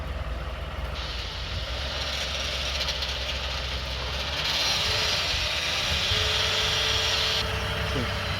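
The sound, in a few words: car engine revved to about 1500 rpm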